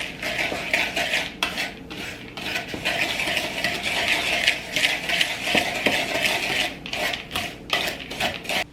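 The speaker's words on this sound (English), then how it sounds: "And then we're just going to mix this up." A spoon stirs apple walnut cobbler topping mixture in a bowl, making steady rapid scraping and clinking against the sides for several seconds, close and fairly loud, with no voices.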